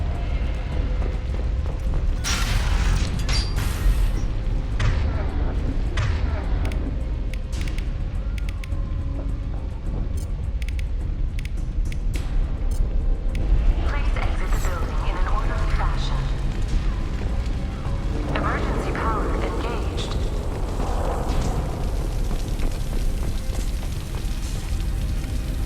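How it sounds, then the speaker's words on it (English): An explosion in the Mass Effect 2 video game, with heavy booming rumble and crashing debris sustained under frequent character dialogue throughout. "Looks like he got caught in the explosion."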